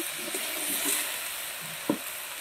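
Kohlrabi frying with spices in a pan on a home stove, giving a steady soft sizzle with a brief louder stir or clink near the end, no voices.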